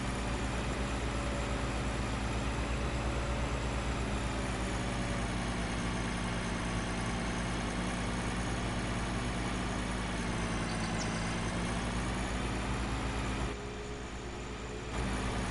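Truck engine from a Farming Simulator 19 truck mod, a steady, loud droning idle with deep low rumble that holds throughout, dipping slightly near the end.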